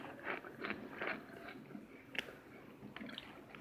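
Crunchy twice-cooked cornstarch being chewed close up, with a run of soft rhythmic bites and crunches that are fairly quiet.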